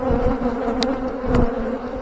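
A dense swarm of honeybees hums loudly and continuously as a beekeeper shakes them off a hive frame, a steady droning buzz with a couple of brief sharper knocks and no talking.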